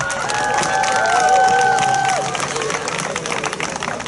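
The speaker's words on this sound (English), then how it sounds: "Let's give them another round of applause." Crowd at an 8th grade graduation ceremony applauding and cheering loudly, with shouts and whistle-like cries rising over steady clapping that fades slightly toward the end.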